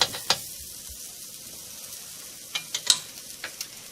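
A buttermilk pancake sizzles faintly on a griddle just after being flipped, with a soft steady hiss and a few light crackles and spatula taps.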